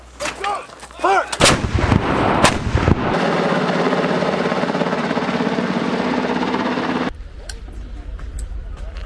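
Heavy booms and gunfire roll out during a live-fire Warrior Shield military exercise, with several sharp blasts followed by a long rumbling, helicopter-like roar, and brief shouted voices at the start.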